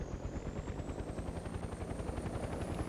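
A helicopter in the video game Mercenaries 2 flies steadily with a continuous rotor thump and a rising turbine whine, loud and close throughout with no talking.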